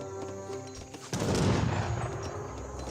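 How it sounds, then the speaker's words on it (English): Distant bursts of gunfire crackle over a busy ambient soundscape in Age of Empires 3, the rattle swelling midway and continuing as a muffled fusillade. "Here's some gunfire somewhere."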